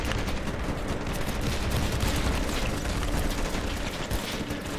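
Dense, continuous automatic gunfire from the modded video game Ravenfield, a loud rapid rattle of overlapping shots sustained for several seconds with no pause.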